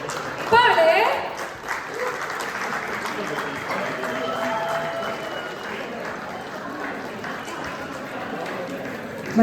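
Audience at a Kannada community Yugadi festival event clapping in a sustained, moderately loud burst of applause, with some voices and crowd noise mixed in near the start.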